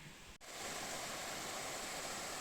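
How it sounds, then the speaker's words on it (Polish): Steady, dense rushing water roars continuously and evenly from a large waterfall in Romania heard nearby, after a brief dip at the start. "na tej trasie dzisiaj to będzie na pewno największy wodospad"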